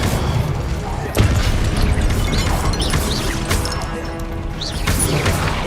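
Confringo blast spells go off in Hogwarts Legacy, several booming, crackling impacts over a dense background of combat noise and magical effects.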